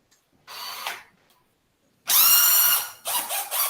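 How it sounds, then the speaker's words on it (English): Electric drill machine boring holes into a wooden plate, in three close bursts of whining motor and bit grinding through wood, loud and near, with no talk. "with my drill machine, I drill some holes inside the plate."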